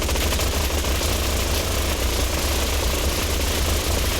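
The Wasteland Chaingun, a raider minigun in Fallout 4, fires nonstop. Its bullets blur into a dense, loud, droning roar with a heavy low rumble and no gaps throughout.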